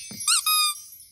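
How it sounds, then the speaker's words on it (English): A cartoon squeaky toy gives two quick high squeaks, a short rising one followed by a slightly longer one, loud and close with nothing else around it. "A squeaky toy."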